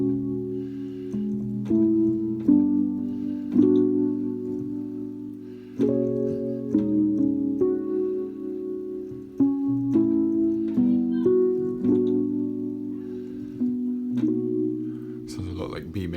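Recording of a song, with mellow sustained chords moving in steady changes over a low bass line and light percussive accents, smooth and even throughout.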